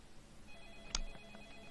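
A telephone rings once inside the horror game Deadly Premonition, a short bright electronic ring over a quiet ambient background, followed by a couple of faint softer echoes.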